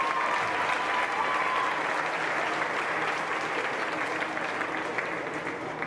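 An audience at a county livestock showmanship contest gives a contestant a steady, full round of applause, dense and even clapping from a sizeable crowd with no talk over it.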